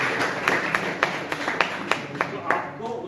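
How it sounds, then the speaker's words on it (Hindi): Seminar audience at a university campus event claps in a loose, rhythmic series of sharp hand claps that peaks and then tapers, with a voice speaking over it. "बहुत बढ़िया आंसर, तालियां हो जाए"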